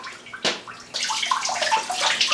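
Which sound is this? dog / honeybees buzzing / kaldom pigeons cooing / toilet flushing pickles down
toilet flushing pickles down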